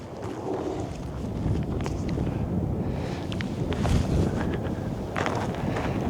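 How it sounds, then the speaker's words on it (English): A steady headwind on a disc golf course buffets the microphone in a low, rumbling gusty roar with brief rustling bursts, and no one talks during it. "we do have a pretty steady headwind we're dealing with"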